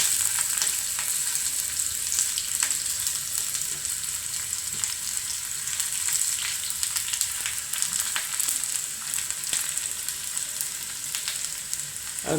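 Shallots sizzle steadily in hot oil alongside mustard seeds and fenugreek during a home lunch tempering, a dense, continuous close-up crackle with scattered sharper pops and no talking.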